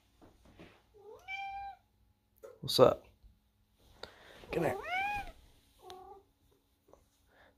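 A cat meows several times, clear and close, with short rising-falling calls spread across the clip, while a person talks to it in between.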